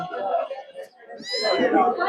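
A fluffy Persian cat meows at a cat market, its drawn-out cries close and clear, mixed with people talking nearby.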